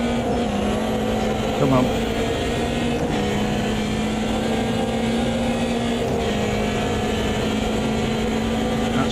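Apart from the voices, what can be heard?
short wheelbase BMW race car in Automobilista 2 video game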